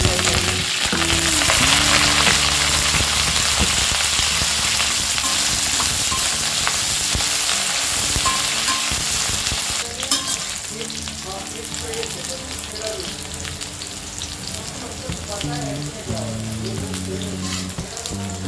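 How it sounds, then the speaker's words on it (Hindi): Cauliflower frying on high flame in a kadai in a home kitchen, a loud continuous sizzle with occasional stirring scrapes, settling slightly quieter partway through. "अब हम उसी कढ़ाई में कॉलीफ्लावर फ्राई करेंगे।"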